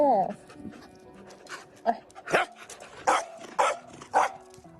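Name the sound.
dog barking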